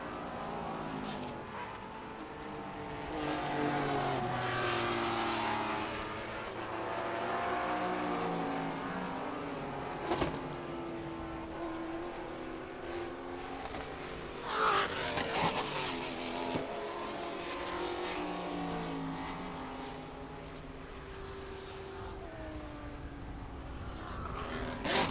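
Trans Am race cars, a Corvette among them, run a qualifying session at Barber Motorsports Park, heard as distant engine roars rising and fading as the cars pass in waves, with occasional sharper revs.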